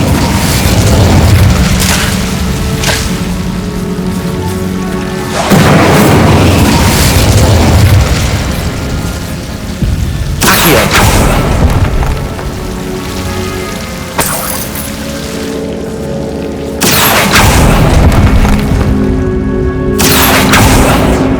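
Incendio fire spell blasts in Hogwarts Legacy, heavy booming bursts with crackling fiery tails, each lasting several seconds and repeating at irregular intervals, loud and close.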